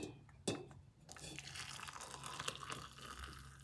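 Water is poured into a mug beside a portable gas camping stove, a steady close liquid stream running for about three seconds after a brief clatter at the start.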